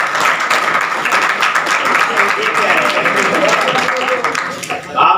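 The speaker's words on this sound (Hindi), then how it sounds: "तो लड़कियां अपने लिए तालियां बजा सकती हैं" Audience of girls clapping for themselves at a school NSS camp gathering, a dense, steady wash of applause lasting throughout with voices mixed in.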